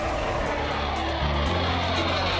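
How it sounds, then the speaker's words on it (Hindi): Indian fighter jets roar overhead in a steady, dense, loud rumble that swells slightly toward the end, with no voices. "आसमान में हिंदुस्तान के लड़ाकू विमानों की हुंकार,"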